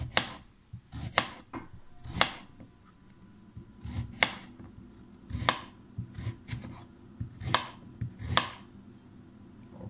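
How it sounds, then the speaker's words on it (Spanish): A knife chops a quarter of a washed carrot into small pieces on a board, giving irregular sharp thuds with brief pauses between them, close and fairly quiet. "Ya está lavada, la estoy picando en pedazos pequeños para luego ser licuarla."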